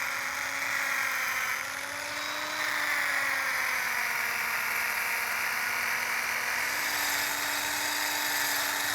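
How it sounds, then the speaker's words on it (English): A wood lathe spins at reduced speed while a yarn bowl is sanded, giving a steady whining hum with a slight pitch wobble and a hissing sanding texture, continuous and without speech. "I usually decrease the RPMs of the lathe just to prevent a lot of heat buildup."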